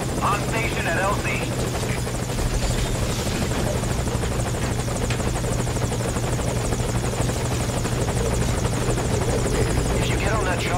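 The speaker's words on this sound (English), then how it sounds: "If you get on that chopper, you'll be aborting the mission." Helicopter rotor chop and turbine whine from Metal Gear Solid V: Ground Zeroes, a loud steady thumping drone that runs unbroken from start to end, with radio-style voices talking over it.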